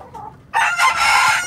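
A rooster crows once, loud and close, after a brief faint cluck, in a breeding yard for fighting gamecocks where hens are kept.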